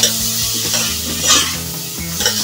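Tomatoes and onions sautéing in oil for mung bean stew, a steady close sizzle with repeated scraping and stirring strokes of a utensil through the pan, no voices.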